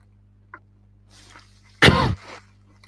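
A single loud cough bursts out alone against a quiet room with a low steady hum, with a faint click just before and a softer trailing breath after.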